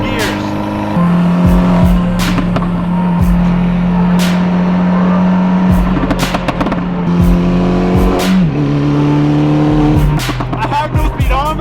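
A car drives and accelerates hard with a loud, steady engine drone. The pitch climbs and drops several times as the driver shifts gears, and there is some bumpy rattle.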